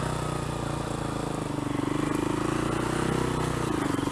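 A Kawasaki KLR 250 motorcycle engine runs at a steady low idle nearby, an even throbbing putter that continues without a break and with no talk.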